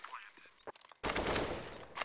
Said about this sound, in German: Da hat die MAC-10 einfach im Spray den Vorteil. Deutlich mehr Schüsse im Vergleich zu der M4A1S.